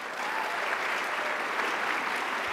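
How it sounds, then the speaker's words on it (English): An audience at an award night breaks into a steady, dense round of applause, an even wall of clapping that holds at the same level from start to finish with no voices over it. "give him a big round of applause"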